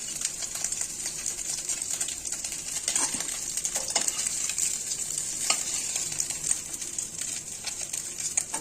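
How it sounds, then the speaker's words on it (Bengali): Fried piyali fish lifted out of hot oil in a pan, a continuous loud sizzle with occasional scraping and clinking of a utensil, no talk. "এখন তুলে নিচ্ছি।"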